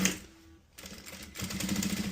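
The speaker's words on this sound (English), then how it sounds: "you're going to just sew it down" Sewing machine stitching down a pants seam on fabric cut from 1980s hunting overalls, a steady rapid mechanical clatter that pauses briefly, then resumes louder and continuous.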